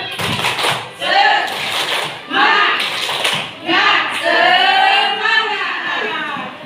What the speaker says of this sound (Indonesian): Kita tepuk semangat, tepuk semangat